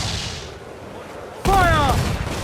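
Naval cannon fire from a sailing warship in Assassin's Creed IV: Black Flag, a heavy booming blast that cuts in sharply over the rolling sea-battle din, with a voice shouting over it.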